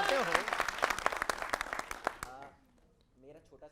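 Studio audience at a televised Hindi debate applauds in a brisk burst of claps for about two seconds under a speaking voice, then fades as talk continues alone.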